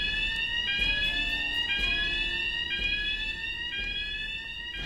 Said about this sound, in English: Hey, you hear the alarm, right?